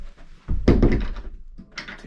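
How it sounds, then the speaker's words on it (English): A cupboard door in a newly built house swings shut with a solid thunk followed by a short rattle, then a faint knock a moment later; no voices. "Once you shut this door"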